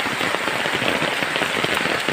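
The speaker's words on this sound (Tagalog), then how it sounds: "Ay tuloy ang lakas ng ulan." Heavy rain pours steadily and loudly at close range, a dense continuous patter with scattered sharper drops, no voices over it, during flooding among banana plants.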